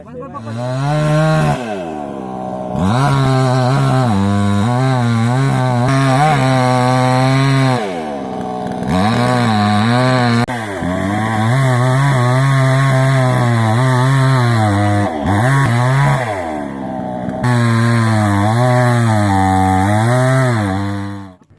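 A loud chainsaw engine revs and drones close by in long sustained bursts while felling a tree in a forest, its pitch rising and falling, with a few short pauses between cuts.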